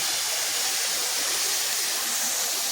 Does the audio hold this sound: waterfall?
yes